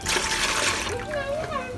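Water splashes and sloshes as greens are washed in a basin during village cooking in Moem village near Wewak, with voices, including a child's, talking over it.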